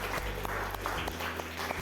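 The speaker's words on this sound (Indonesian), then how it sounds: "Berikan tepuk tangan." Students in a geography lecture class give a short round of applause, the clapping soft and somewhat distant over a low background hum.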